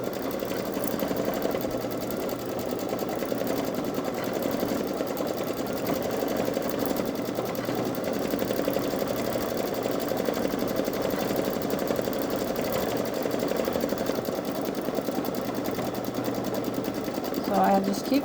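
A Babylock Solaris Vision embroidery machine stitches a flower outline, giving a steady, fast mechanical whirring and rapid needle tapping that runs unbroken through the whole stretch at moderate level.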